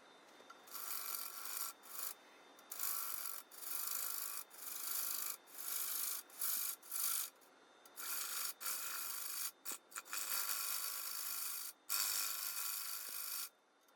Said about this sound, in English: I'll do a little bit of negative rake scraping